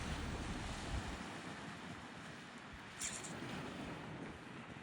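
Wind and surf off the Okinawa coast as a typhoon approaches, a broad, steady rushing roar with gusty buffeting against the microphone and a brief swell of louder noise midway, fairly faint and without voices.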